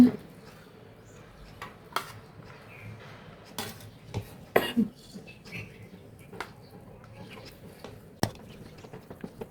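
Beef khichuri served from a pot onto a plate: scattered clinks and soft scrapes of a serving spoon against metal, with irregular taps over a quiet kitchen background.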